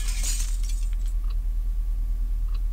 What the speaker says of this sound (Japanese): 皿が割れたからね